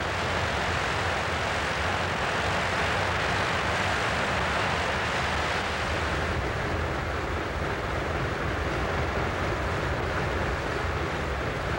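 Engine of the Windy 735 plane at maximum power while frozen into mud and snow, a loud, steady broadband roar that stays constant throughout, close and without talking.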